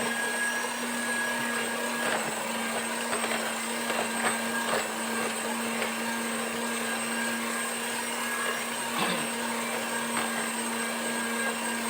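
An electric mixer beats srikaya custard with pandan leaves, a steady whirring hum with a constant drone and occasional clicks, running alone at moderate level.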